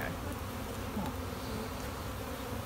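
Honey bees buzz steadily from an open hive during a beginners' hive inspection, a dense close hum of many insects with no talking over it.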